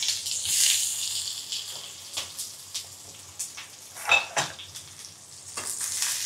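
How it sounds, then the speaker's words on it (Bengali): Chopped onions sizzling in hot oil in a pan, a continuous close frying hiss with scattered clinks and scrapes of a utensil stirring against the pan. "আমি এখন এটাকে তেলের মধ্যে পেঁয়াজ কুচি দিচ্ছি"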